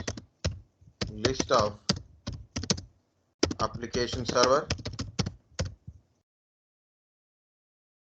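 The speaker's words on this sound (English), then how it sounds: "why I am typing like this?" Computer keyboard typing while someone lists web, application, database and middleware servers, the key clicks running close under the voice in quick bursts throughout the spoken stretch, then stopping when the talking ends.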